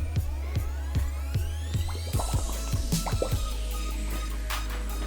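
A face dips into a bowl of water, giving a run of soft drips, sloshes and splashy liquid movements, close and steady throughout.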